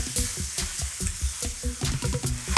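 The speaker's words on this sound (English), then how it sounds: "And I'm going to throw the shallots in" Shallots sizzle in hot pork lard, a crackling fry broken into rhythmic bursts as they are tossed and stirred in the pan.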